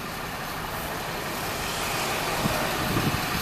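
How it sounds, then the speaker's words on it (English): A salt truck drives past on a road, a broad rumbling roar that swells louder and closer toward the end. "Oh, I think it's salt, guys. It's a salt truck."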